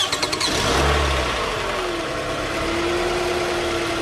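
A Toyota Camry engine cranks with a few quick starter pulses, catches and revs up loudly, then settles into a steady idle with a faint whine, all close up and with no talking.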